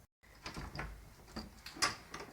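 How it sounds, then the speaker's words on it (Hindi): A door being shut and locked in a village home, heard as a few close, dry knocks and clicks of the latch, with no talking over it. "अब ये दरवाज़ा भी लॉक हो चुका।"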